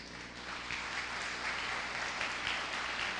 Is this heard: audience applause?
yes